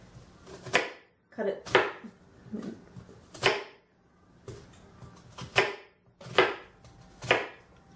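A knife strikes down through food on a cutting board while making healthy turkey spinach meatballs: about eight sharp, close chops in an uneven rhythm, with quiet gaps between them.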